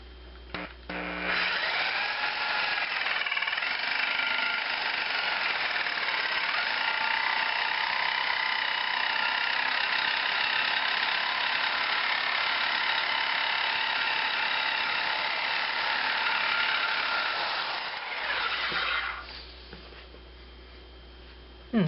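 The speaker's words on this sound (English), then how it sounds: "Now I should have a clear route to cut that last bolt off" A Sawzall reciprocating saw cuts through a metal toilet bolt, running as one loud continuous buzzing cut close by for nearly twenty seconds before stopping.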